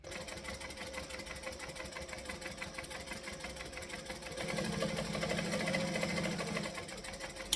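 Sewing machine back stitching across a bag flap with a zipper pocket, a steady mechanical hum that grows louder partway through as the stitching speeds up.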